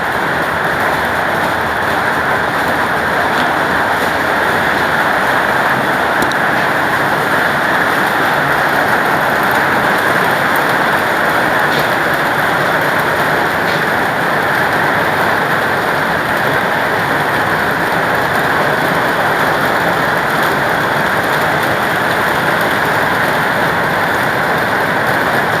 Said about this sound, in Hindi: देखो भाई बारिश कितना ज़्यादा हो रहा है